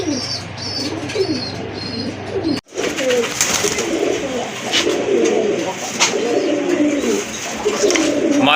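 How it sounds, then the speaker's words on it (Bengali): Large Rajgolla pigeons cooing at a bird sale, soft repeated coos with some chirps and a brief wing flutter, close and fairly loud amid background chatter and noise. "দেখেন আরেক জোড়া কবুতর রাজগোল্লা কবুতর অনেক বড় সাইজের কবুতর"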